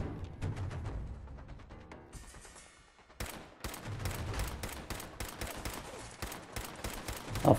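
Allied companion gunfire in Fallout 4, a string of sharp, distinct shots at fairly close range, sparse and irregular at first, then a faster, denser volley of cracks after a short pause.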